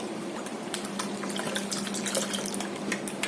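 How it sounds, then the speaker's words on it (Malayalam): Water pours steadily into passion fruit juice with a continuous splashing, trickling sound, fairly close and moderately loud, with no voices. "കുറച്ച് വെള്ളം ഒഴിച്ചു കൊടുക്കാം."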